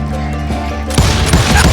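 Hired guns firing in the Western video game Call of Juarez Gunslinger, a sudden crackle of gunfire breaking in over a droning music bed, loud and close, following a short stretch of softer tones.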